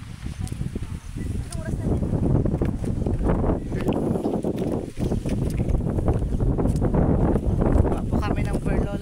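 Blustery wind buffeting the microphone with continuous rumbling gusts, while people talk underneath in Filipino outdoors.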